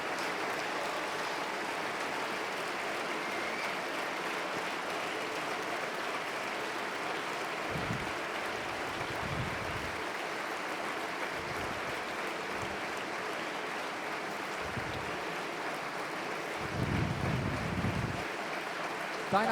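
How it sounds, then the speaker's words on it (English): An audience applauds steadily after a talk at the re:publica 2017 conference, a sustained, even wash of clapping heard from a distance, with a few low thumps near the end. "Your applause, Kübra Gümüşay."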